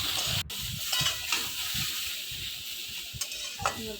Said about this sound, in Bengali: এবার আমি ভালো করে আলু আর ঝিঙেটা নাড়াচাড়া করে নেব